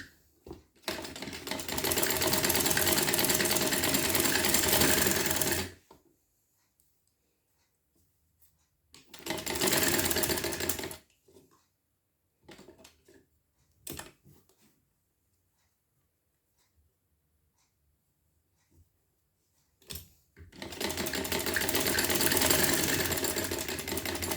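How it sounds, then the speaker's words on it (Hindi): A sewing machine stitching a frock suit runs in three bursts of fast, steady whirring stitches, close and loud, with quiet pauses of handling and small clicks between them and no talking. "और यहाँ से सिलाई कर देंगे।"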